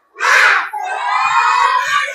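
A classroom of children breaks into a loud collective shout, a burst of clapping then a sustained chanted cheer, close and energetic with no other voices over it.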